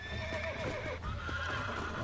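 A horse in the Red Dead Redemption video game whinnies with a rising, wavering call over a steady clip-clop of hooves and low ambient rumble, close and fairly loud throughout.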